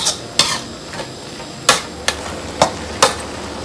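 Spicy squirrel curry with pickled bamboo shoots is stir-fried in a pan, six sharp metallic spatula scrapes and knocks landing irregularly over a soft background sizzle, close and clear.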